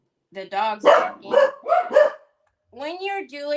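Several dogs bark in quick succession close by in a home where crafting goes on, followed by a short stretch of a person talking.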